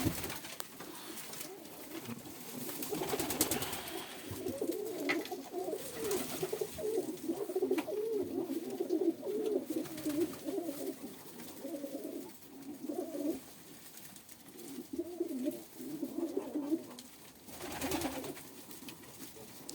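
Steady, overlapping cooing of several Yeysk double-crested pigeons, a continuous throaty murmur close by that swells and dips for the whole stretch.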